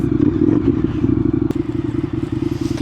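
Motorcycle engine running steadily while being ridden, a continuous near rumble with a low throbbing tone and occasional clatter, no voices.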